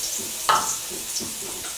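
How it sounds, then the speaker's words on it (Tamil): Ginger garlic paste drops into a spoonful of hot oil, giving a soft sizzle with a brief sharp spatter as it hits, then a quieter, steady fry. "எண்ணெய் காஞ்சோன்னே இஞ்சி பூண்டு பேஸ்ட்டு அரைச்சி வச்சுருக்கிறதுல அதை போட்டுக்கோங்க."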